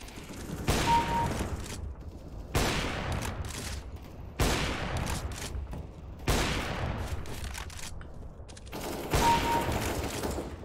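Bursts of automatic gunfire in the video game CS:GO, five long sustained volleys separated by short silent gaps, loud and close.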